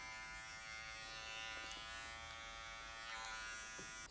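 An electric hair clipper, running without a guard on afro hair, gives off a steady, even buzz with a few faint scraping strokes, heard close and without any talk.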